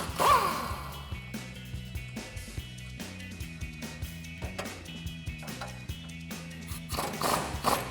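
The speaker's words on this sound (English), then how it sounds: "we're going to be using our 19mm socket to remove those nuts" A ratchet with a 19mm socket loosens leaf spring shackle nuts on a 2007-2021 Toyota Tundra, a rapid, steady clicking of the pawl repeating close by through the whole stretch, with a brief scrape at the start.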